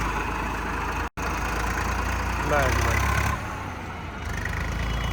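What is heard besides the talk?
Sonalika 740 tractor engine running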